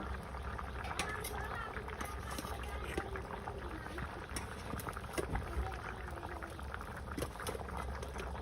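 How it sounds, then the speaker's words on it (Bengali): Village vegetable curry bubbling at a steady boil in a pot over an outdoor fire, a continuous busy simmer that runs throughout with voices talking over it. "এই যে দেখেন তরকারিগুলো একবারে ফুট দিয়ে গেছে"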